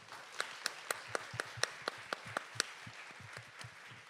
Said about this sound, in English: can we give a round of applause for all our speakers?